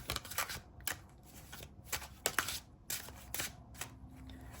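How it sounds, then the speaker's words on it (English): Tarot cards being moved and shuffled, a series of crisp riffling and sliding card sounds in uneven bursts, fairly close. "Let me move these out of the way so we can get a couple more cards."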